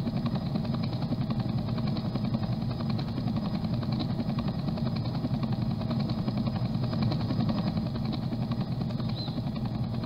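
A helicopter flying in the Roblox game gives a loud, steady engine drone with a rotor chop that fills the whole stretch without a break and with no talk over it.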